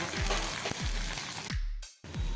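Ground masala sautés with already-fried onion in a hot pan for a vegetable curry, giving a steady close sizzle broken by a few scraping stirs and a brief dip in loudness near the end.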